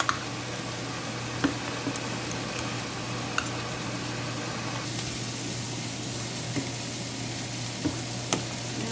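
Chicken kurma simmering in a pan after thick coconut milk is added, a steady close sizzle and bubbling with occasional faint ticks of utensils.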